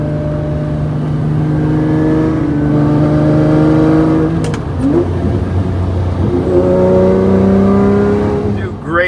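A Lamborghini Murcielago LP640 V12 revs loudly through a series of downshifts on a wide open road, with the engine note rising and falling in close sharp blips and a voice talking over it.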